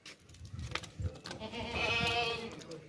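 A pregnant goat bleats in a drawn-out, wavering cry that builds through the second half, following scattered shuffling and knocking noises from the pen nearby.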